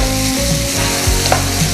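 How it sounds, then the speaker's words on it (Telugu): Ginger garlic paste sizzles and spits in hot oil in a pan, a loud, close, steady frying hiss with a few scraping stirs and no voices. "ఈ అల్లం వెల్లుల్లి పేస్ట్ కొంచెం పచ్చివాసన పోయేంత వరకు మనం ఫ్రై చేసుకుందాం"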